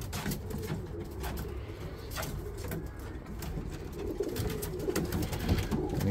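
Devriendt racing pigeon squabs, including a blue bar pied youngster, coo softly and repeatedly in a loft, close by with a steady rustling background and no talk.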